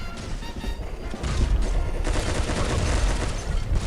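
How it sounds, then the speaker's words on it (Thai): Rapid machine-gun fire from a water-spraying rifle in the mobile game Pixel Gun 3D rattles on without a break, loud and dense, with bursts overlapping into a continuous crackling barrage. "ที่ใช้อยู่มันเป็นปืนกล"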